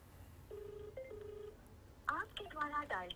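A phone call being dialed back: a few short, clear electronic tones, then a brief voice and further beeps, all fairly faint.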